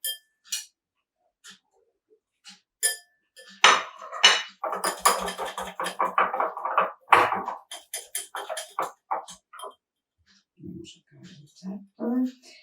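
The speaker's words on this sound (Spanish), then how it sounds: "vamos a batir un huevo y vamos a incorporar la maicena" An egg beaten with cornstarch in a bowl: sparse taps give way to a rapid run of clinking strokes against the bowl, then slower, scattered knocks.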